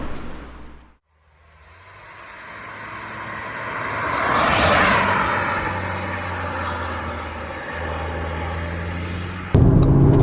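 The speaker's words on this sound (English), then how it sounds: "Okay, here we are driving the Audi S3 then" An Audi S3 driving along a country road, a continuous engine and tyre roar that swells into a louder passing whoosh midway, then settles into a steady drone inside the car.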